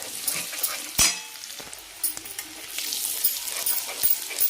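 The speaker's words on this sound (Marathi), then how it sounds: "तिखट छान एकदम परतून घ्यायचं." Chili powder and black masala sizzle in a pan for mutton, a steady frying hiss broken by sharp clinks and scrapes of stirring, with no voices over it.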